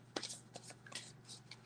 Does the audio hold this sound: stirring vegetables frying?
no